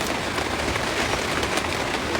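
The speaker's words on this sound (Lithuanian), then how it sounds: "Lyja" Steady rain falling outdoors near a campsite tent, a continuous dense hiss of drops with no other sounds.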